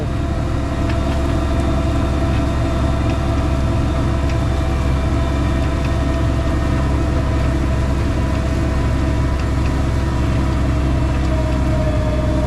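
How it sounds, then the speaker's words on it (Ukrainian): A steady, droning Claas tractor engine runs continuously at an even pitch, loud and close, while working a field, with no pauses or voices. "Трактор йде без особих зусиль."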